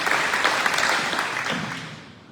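Audience applause at a wildfire community meeting in Oregon, a short burst of dense clapping that starts full and fades away over a couple of seconds.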